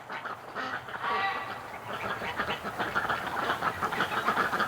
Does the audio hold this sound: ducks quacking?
yes